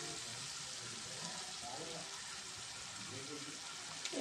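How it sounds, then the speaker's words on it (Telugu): Sliced onions sizzle gently in oil with curry leaves in a pan, a soft, steady frying hiss that runs the whole time at low volume with faint stirring clinks. "ఓకే ఫ్రెండ్స్, ఉల్లిపాయలు మగ్గుతున్నాయి ఫ్రెండ్స్"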